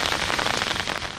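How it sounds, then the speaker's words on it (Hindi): Heavy morning rain pours in Rawalpindi and Islamabad, a dense, steady hiss of drops striking surfaces at close range with no voices. "रावलपिंडी और इस्लामाबाद में सुबह सवेरे जमकर बादल बरसे।"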